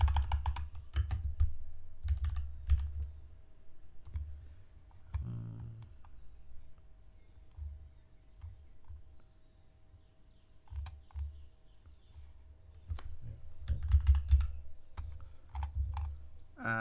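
Computer keyboard typing text into a web form, heard as bursts of quick, light clicks close by, with a pause in the middle before a final flurry over a low background hum.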